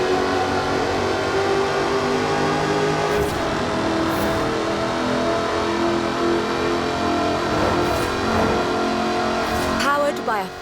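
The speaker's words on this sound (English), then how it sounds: "Powered by a 5-litre V8 supercharged engine" A 5-litre supercharged V8 sports car in Forza Horizon 4 drones loudly and continuously, rising and falling with throttle under steady narration by a voice.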